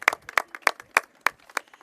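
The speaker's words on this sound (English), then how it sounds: "oh, you can applaud, that's good" Audience at a Cook County grant funding announcement clapping in a short burst, a handful of distinct sharp claps spaced roughly a third of a second apart, moderately close and fairly quiet, with no talking.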